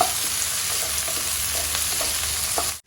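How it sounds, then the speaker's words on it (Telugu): Green chilies, curry leaves and onions frying in oil in a pan, a loud, dense, continuous sizzle with faint stirring clicks, close up and alone, cutting off abruptly at the end. "పచ్చిమిరపకాయ వేసుకొని ఒక కరివేపాకు వేసేద్దాం మంచిగా వేయించుకోవాలి ఆనియన్స్ ట్రాన్స్పరెంట్ అవ్వాలి"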